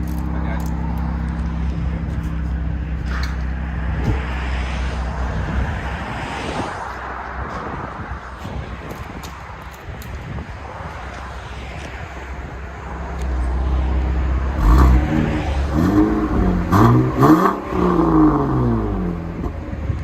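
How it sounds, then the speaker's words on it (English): 2018 Chevy Camaro RS V6 with true dual Borla ATAK axle-back exhaust, resonators still on, idling with a low rumble before several sharp revs near the end, with people talking nearby. "BORLA ATAK. Axle back with resonator still on it. True dual."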